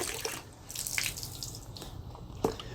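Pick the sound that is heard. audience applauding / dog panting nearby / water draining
water draining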